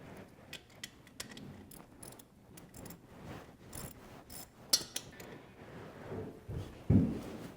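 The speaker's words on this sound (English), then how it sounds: "I'm going to undo this cable first here." Hand tools clicking and ratcheting while a cable is undone from a vehicle starter, faint irregular metallic ticks and scrapes with a few sharper knocks, close and quiet.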